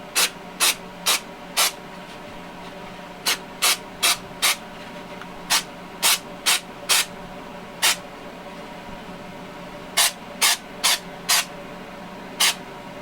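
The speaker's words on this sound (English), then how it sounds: "we'll just spray a little on there and see what happens" Short bursts of an aerosol texture spray hit a foamcore model building, about fifteen sharp hissing puffs arriving in uneven clusters, loud and close against a quiet room hum.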